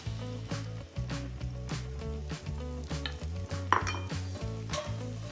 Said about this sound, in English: Melt that. I'm just going to add my mushrooms straight in.